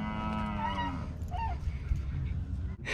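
Cattle moo while being herded during a move to winter grazing: a long, close, drawn-out low call, then shorter moos from other animals in the herd, with outdoor rustling and a sharp bump at the end.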